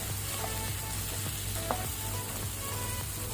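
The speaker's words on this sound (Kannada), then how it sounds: "ಟೊಮೆಟೊ ಒಳ್ಳೆ ರೀತಿ ಸಾಫ್ಟ್ ಆಗಿದೆ ಎಣ್ಣೆಯಲ್ಲಿ." Ripe tomatoes sizzle and fry in hot oil in a pan, a steady dense crackling hiss that runs throughout at moderate loudness, with a few soft stirring scrapes and no talking.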